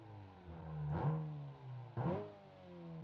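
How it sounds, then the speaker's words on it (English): A car engine idling in drive is revved hard twice as the throttle is smashed, each burst a loud, rising exhaust roar about a second apart that falls back to a steady idle rumble. "now what I'm gonna do is I'm gonna just smash the throttle. Listen to the exhaust."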